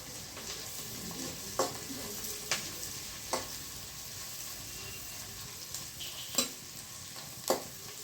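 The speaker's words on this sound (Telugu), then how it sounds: "ఆనియన్స్ని కూడా వేసుకొని ఫ్రై చేసుకుందాం. ఇప్పుడు క్యారెట్ని కూడా యాడ్ చేసుకుందాం. అలా క్యారెట్ని కూడా ఒక 1 సెకండ్ పాటు వేయించుకోవాలి." Carrots and onions frying in a pan, a low, even hiss with a handful of sharp spatula knocks spaced a second or so apart, fairly quiet and close.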